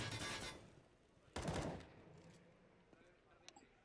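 Gunfire in Counter-Strike during a competitive match on the Vertigo map, with a loud burst at the start and another sharp volley midway, then scattered fainter shots trailing off.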